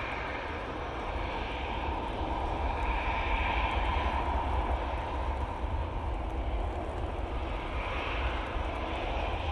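An airliner touches down at Manchester Airport after a long-haul flight, its engine roar broad and steady for the whole stretch while gusty wind rushes underneath, no voices present.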